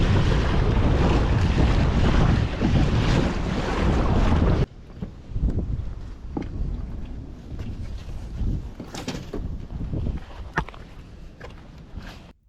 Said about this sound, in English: The wind's kind of dying down a bit, I hope, because it's pretty gnarly out here